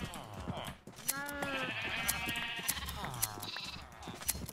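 Sheep in Minecraft bleat as they are sheared: several quick, wavering bleats follow one another, mixed with soft clicks and thuds from the game.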